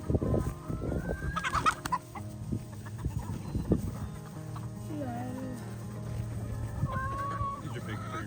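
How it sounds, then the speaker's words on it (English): Large roosters cluck and call near a garden, with close, loud bursts early on and scattered squawks later, mixed with people talking. "These are big pretty roosters."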